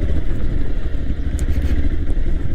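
A motorcycle on a Leh Ladakh road trip descends a slope in first gear, its engine giving a loud, close, rumbling low chug with some rattling clatter throughout.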